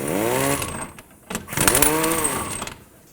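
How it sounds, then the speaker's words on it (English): Impact wrench or power driver spinning a jam nut onto an outer tie rod of a 2007-2009 Saturn Aura, two close, loud bursts of whirring motor with a short pause between them. "And now drive the nut on."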